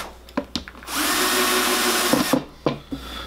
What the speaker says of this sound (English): you have to pre-drill for these.